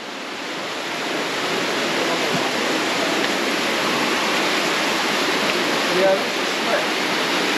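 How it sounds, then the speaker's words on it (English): A waterfall at the Panamint City ghost town roars as a steady, broad rush of falling water, loud and close, while a voice briefly speaks over it. "Beautiful waterfall."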